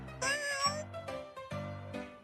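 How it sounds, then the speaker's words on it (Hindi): A pet cat meows twice in a row, clear and close, its calls separated by a short pause with a low background hum underneath. "अगले दिन सुबह इजहार और बख्तियार बिल्ली के साथ खेल रहे थे।"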